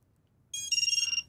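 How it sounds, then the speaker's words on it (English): A drone quadcopter powers up after a spark stop delay device releases. Its electronic start-up tones chirp in a quick series of high, close beeps over a quiet background, with no voices. "we should hear the quad kick in"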